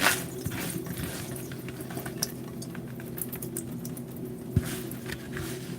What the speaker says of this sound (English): So we'll put them in some water and rinse it